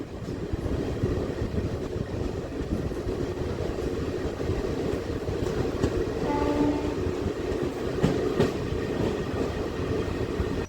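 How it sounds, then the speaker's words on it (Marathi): The Baramati Express passenger train rumbles steadily past at close range arriving at Hadapsar station, with a continuous low roar, faint rail clatter and a brief high horn-like tone midway. "पुण्यापासून दहा मिनिटांनी गाडी हडपसरला आली"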